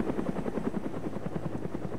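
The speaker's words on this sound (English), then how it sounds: "Helicopter's right there." A helicopter in the DayZ Epoch video game flies close by, its rotor chopping in a fast steady rhythm that stays loud and constant throughout.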